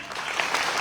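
An audience claps together at a motivational talk about libraries in India, a dense, steady burst of applause lasting under a second with no voices over it.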